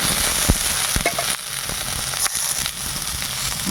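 Cauliflower frying in oil in a village kitchen before going into a tilapia fish curry, a loud dense sizzle with sharp popping crackles and a few stirring scrapes, no speech.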